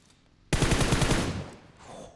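A rapid burst of video-game gunfire landing a headshot in a competitive match, a loud, close automatic volley of about a second that starts abruptly and trails off into quieter background sound.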